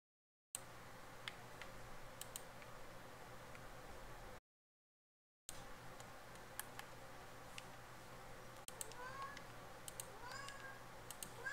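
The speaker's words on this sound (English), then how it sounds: "Yes, kitty, we hear you." A pet cat meowing indoors during a video game stream, faint short calls scattered over steady room noise and a low hum, with a brief dropout midway.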